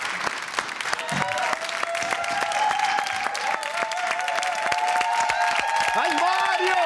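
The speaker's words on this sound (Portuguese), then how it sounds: "Uma salva de palmas." A studio audience at a Portuguese late-night comedy show bursts into sustained clapping and cheering that stays loud and dense throughout, with some whoops and voices mixed into the crowd.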